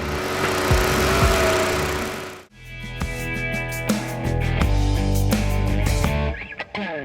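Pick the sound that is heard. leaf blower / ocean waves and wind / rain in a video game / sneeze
leaf blower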